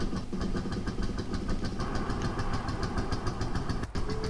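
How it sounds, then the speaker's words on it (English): Tractor engines in a farming video game idle and rumble with a steady rapid knocking pulse, loud and continuous from start to end. "Yeah, my tractors are quite loud,"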